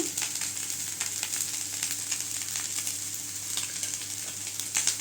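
Steady sizzling of carrot rice with salt being stirred in a hot pan, continuous frying hiss with light scraping clicks of the spoon throughout.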